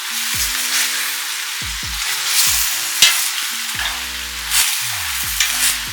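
Broccoli, carrots and mushrooms stir-fry in a pan with pine nuts, a steady loud sizzle broken by repeated scraping stirs, with no talking.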